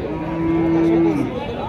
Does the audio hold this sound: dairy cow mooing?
yes